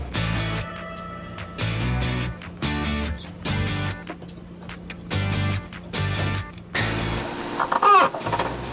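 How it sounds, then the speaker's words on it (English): A chicken clucks nearby in a steady series of short, loud, repeated bursts, with some other noise toward the end. "I keep thinking there's a chicken running around back here."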